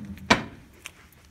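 A single short wooden knock or thump of a drawer sliding open, fairly close, with a faint lighter clack afterward in a quiet room.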